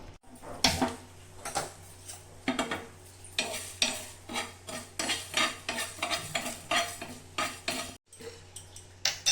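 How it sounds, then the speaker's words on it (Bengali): Whole coriander seeds, dried red chillies and cumin dry-roasted in a pan, heard as repeated scraping and clattering of a utensil stirring against the metal in uneven bursts, with brief pauses and a faint sizzle underneath. "তো ধনিয়া আর শুকনো লঙ্কা আর জিরা আমি অল্প ভেজে নেব।"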